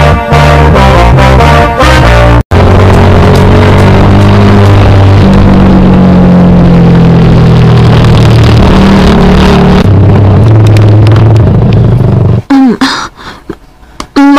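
A motorcycle engine runs loud and close, droning steadily with shifting revs and a sustained low hum, then dropping away near the end amid clattering handling noise.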